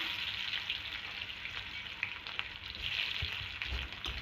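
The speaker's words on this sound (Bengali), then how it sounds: "আমি এবার পেঁয়াজ দিয়ে দেবো।" Onion frying in hot oil with cumin and dry chilli gives off a steady, fairly soft sizzle with crackling pops, and no one speaks.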